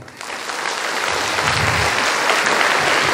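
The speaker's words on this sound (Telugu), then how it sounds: "ఒకసారి మీరు ఒకసారి జోరుగా క్లాప్స్" A roomful of people bursts into vigorous applause at the close of a session, swelling quickly into a thick, sustained roar of clapping.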